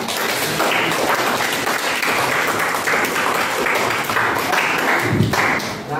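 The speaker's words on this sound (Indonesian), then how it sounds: "Beri aplaus untuk Cika." Sustained classroom applause for a student at a high school, dense steady clapping from many hands filling the room from start to finish, with a few scattered voices underneath.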